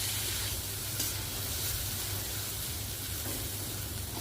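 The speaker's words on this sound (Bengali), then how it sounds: "এবার দিয়ে দিলাম চিড়েটা, দিয়ে নাড়তে হবে।" Flattened rice (poha) is stirred in a hot frying pan, giving a steady, close, continuous sizzle and soft scraping with no talking.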